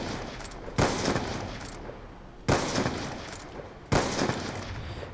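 Three loud, evenly spaced gunshots from the Blundergat-style Blister weapon in Call of Duty: Black Ops 2 Zombies on the Origins map, each a heavy blast with a rumbling tail, roughly one every second and a half.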